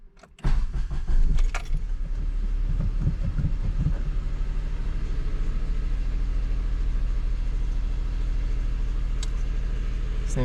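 Ignition key turned on a Honda Insight: keys jangle, then the engine cranks and catches, settling into a steady low idle hum that runs on, with a couple of faint clicks later.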